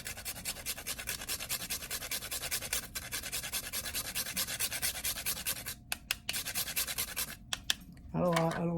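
Whole nutmeg scraped across a grater in a home kitchen, a close, steady run of rapid rasping strokes that pauses near the end before a voice begins speaking.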